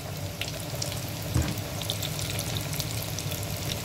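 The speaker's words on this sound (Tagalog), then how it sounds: "Prito na tayo. Prito tayo pag may time." Chicken pieces frying in hot oil in a small pot, a steady broadband hiss of bubbling oil running throughout with one brief louder clatter near the middle.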